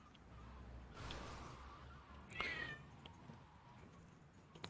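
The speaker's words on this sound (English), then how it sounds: "My cat is meowing like crazy" A pet cat meows faintly in the room, two drawn-out meows heard distantly over soft background game noise.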